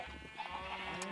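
Sheep bleating in a farming video game, a short, faint call over a steady tonal background hum.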